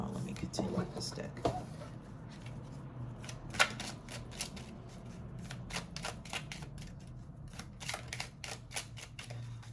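A deck of tarot cards being shuffled in quick, irregular riffles and snaps, close and fairly soft, with a quiet voice talking at times.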